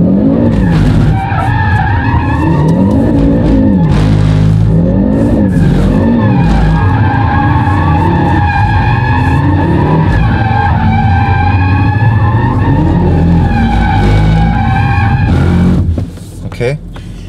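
Audi RS3 8Y drifting in circles on a track, loud continuous tire squeal with wavering pitch over a revving engine, close and sustained, cutting off near the end.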